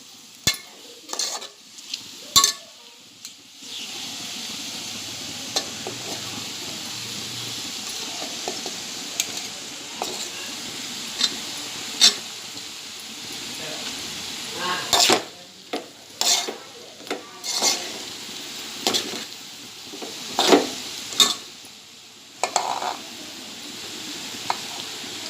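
A frying pan of Maharashtrian kanda pohe is stirred and mixed over the heat, with a soft steady sizzle beneath bursts of clattering spatula scrapes and knocks against the metal.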